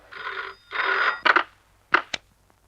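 A telephone rings in two long bursts with a short gap between them, followed by a few brief clicks and faint noises as the call is picked up.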